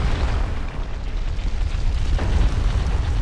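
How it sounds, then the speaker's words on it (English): In Dark Souls, a huge boulder rolls and crashes with a sustained, heavy low rumble, loud and near, carrying a dull impact partway through and no speech over it. "Now the boulder that was going that way is now coming this way, as you can see."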